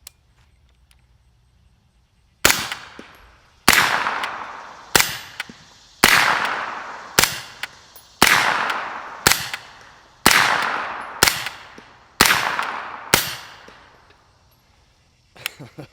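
Rifle fitted with an AB Suppressors F4 fires about a dozen suppressed shots, alternating subsonic and supersonic rounds, each a sharp loud crack with a short decaying tail, spaced roughly a second apart outdoors.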